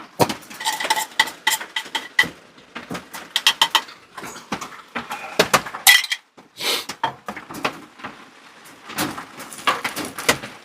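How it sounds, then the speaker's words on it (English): Metal skillet handled on a camp stove during an overnight truck camp in a December storm, with irregular clanks, scrapes and knocks of cookware in bursts, close and fairly loud. "Don't have anything to heat these up in, so I'm just going to use this skillet."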